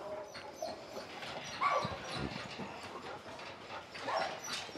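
A Golden Retriever meets other dogs, giving faint whimpers and short yips amid scuffling movement and light background noise.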